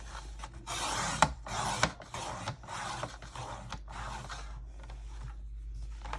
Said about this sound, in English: Then I'm going to turn it, and I'm going to cut the other 6-inch piece.